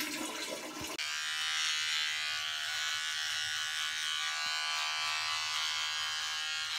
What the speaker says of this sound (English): I've decided that I'm definitely having a shave.